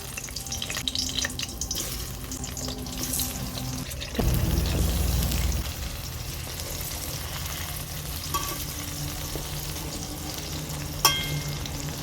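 Pointed gourd (potol) pieces frying in hot white oil in a kadai give a steady, close sizzle throughout, with a louder burst of crackling when more pieces go in.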